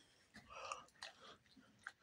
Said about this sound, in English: You're chewing my bone.